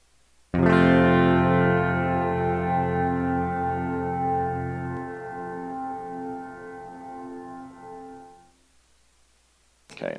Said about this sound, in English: So it's this kind of delayed wash. Really long reverb time, 5 seconds.